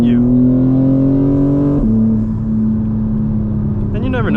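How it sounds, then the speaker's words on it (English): A 2024 BMW M4 sends a strong, steady engine drone into the cabin while driving. The pitch drops sharply at a gear shift and then holds, and a short rev flare comes near the end. "why do I shift so much? It's because I enjoy the sound of the car."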